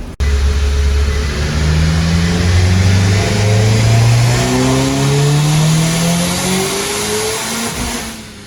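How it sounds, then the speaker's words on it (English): A car engine on a dyno revs hard through a full pull, a loud close roar climbing steadily in pitch for several seconds before easing off at the end. "I'm going to set the new temperature settings on the dyno. We're going to do another pull and see what it does."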